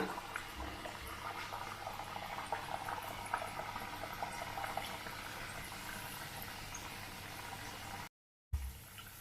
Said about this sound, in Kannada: ಇದು ಮೀಡಿಯಂ ಫ್ಲೇಮಲ್ಲಿ ಇಟ್ಕೊಂಡು ಈ ಥರ ಕರ್ಕೋಬೇಕು